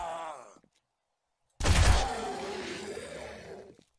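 Rapid gunfire fills the video game 7 Days to Die, starting abruptly as a loud, dense burst of shots that continues for about two seconds before cutting off. A brief voice comes before it.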